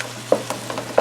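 Thin-sliced Steak-umm steak fries in a pan over medium-high heat, a soft hiss under a few quick taps and scrapes of a utensil, close and brief.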